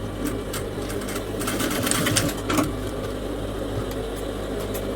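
A sewing machine stitches down a ruffled aso-oke fabric headband, a steady close mechanical whir running throughout with slight surges in speed.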